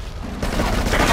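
A short burst of loud video-game gunfire in GTA III, rapid overlapping shots rising in intensity in a dense, booming volley.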